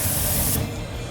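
Brake cleaner blasts from an aerosol can in a close, loud, continuous hiss that cuts off abruptly about halfway through, leaving a softer residual hiss.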